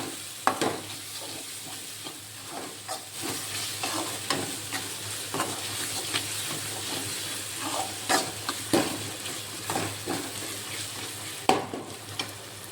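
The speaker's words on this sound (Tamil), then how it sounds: "இஞ்சி பூண்டு பேஸ்ட்டு வாசனை வர வரைக்கும் வதக்கணும்." Ginger garlic paste sautés in a pan for a Tamil vadacurry, close and steady sizzling broken by frequent spoon scrapes and stirring clatters, with no voices.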